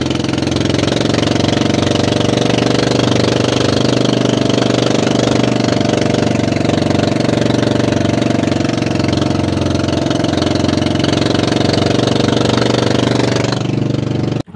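A boat engine with a worn, failing motor drones loudly and continuously at close range, its rough, knocking idle holding steady before cutting off abruptly at the end.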